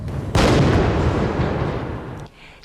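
An explosion set off during a large Shanghai anti-terror drill at the Yuanshen Sports Centre, an Olympic training venue, staged as a biochemical blast attack. It bursts suddenly as one loud broadband boom, rumbles on for nearly two seconds and then cuts away. No voices are heard.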